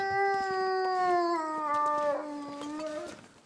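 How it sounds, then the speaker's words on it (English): A wolf in the survival game The Long Dark lets out one long, loud, close howl that holds steady and then slowly slides downward before trailing off, with faint clicks and rustles in the background. "Sounds like that wolf is very close, wherever it is."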